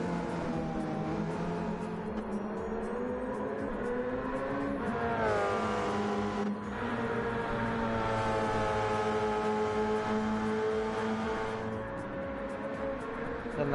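A Porsche 919 race car in an esports racing game, its engine a continuous high whine that climbs and drops through gear changes, with a sharp shift midway and another near the end, and no talking.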